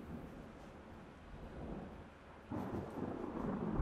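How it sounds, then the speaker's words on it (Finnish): Faint thunder rolls through a spooky course in the video game Golf With Your Friends: a low, distant rumble that swells and grows louder toward the end, with no talking. "Kauhia ukkone."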